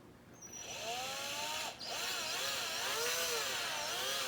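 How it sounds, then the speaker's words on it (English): A small power drill with a very small bit whirs steadily, its pitch rising and dipping in repeated sweeps as it bites, drilling a tiny screw hole, with a brief dip midway; close and continuous. "we're going to be drilling again another tiny little hole in order to replace the screw"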